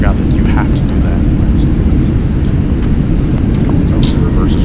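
Loud, continuous roar of Fenix A320 jet engines with thrust reversers deployed on the runway in Microsoft Flight Simulator 2024, a steady broadband rush lasting throughout with no pauses.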